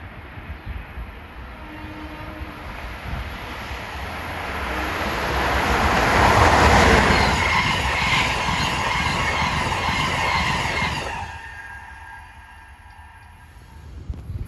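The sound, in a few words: train 148, Washington to Springfield, passing Princeton Junction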